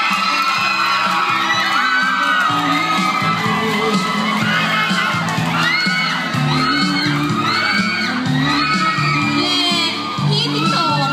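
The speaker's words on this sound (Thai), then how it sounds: "ขอเสียงปรบมือดัง" Crowd cheering with whoops and shouts at a Miss PGS school pageant as a contestant is announced, a dense continuous roar of excited young voices filling the room throughout, with clapping likely buried beneath.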